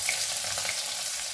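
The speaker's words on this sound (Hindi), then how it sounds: "अब तेल हमारा अच्छी तरह से गर्म हो चुका है, हम इसमें सबसे पहले डालेंगे हींग, लहसुन।" Asafoetida, garlic and onion sizzle in hot oil with a steady, even hiss that holds at moderate loudness throughout, with no voices.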